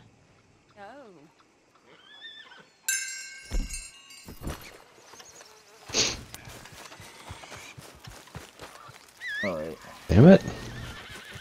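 A horse in the Red Dead video game whinnies loudly near the end, with softer neighs and hoof clops earlier amid game sounds, while someone talks over it.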